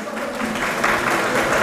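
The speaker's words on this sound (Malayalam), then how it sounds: "എന്നാ എല്ലാവരും ഒന്ന് കയ്യടിച്ച് പാസ്സാക്ക" A reunion get-together group of former classmates clapping together to approve a committee, a dense burst of mixed hand claps that swells slightly and carries on with a faint murmur of voices underneath.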